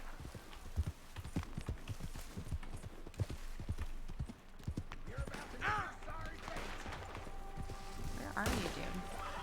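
Horse hooves clip-clop at a gallop in a shooting video game, a steady rapid beat with gunfire bursts and game noise layered over it, while a player talks throughout.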